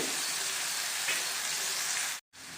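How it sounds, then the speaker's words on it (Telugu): Garlic cloves and onion fry in hot oil with a dense, steady hiss close by, broken by one brief gap of silence near the end. "వెల్లుల్లి రేకలు కూడా వేసుకుని కొద్దిగా ఫ్రై చేసుకోవాలి"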